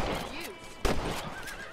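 A horse in the Red Dead Redemption video game lets out a short whinny, followed by a sharp thud and a second rising neigh, all close and clear with no talk.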